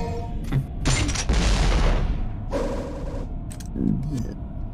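Grenade blasts in the video game Devil May Cry, a few loud booming bursts with broadband crackle following one another over several seconds, mixed with other game effects and some voice.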